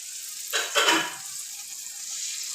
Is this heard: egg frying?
yes